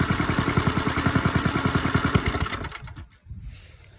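An engine idling after a cold start following four days unused, a fast, even putter with loud rhythmic pulses up close that fades out and cuts off near the end.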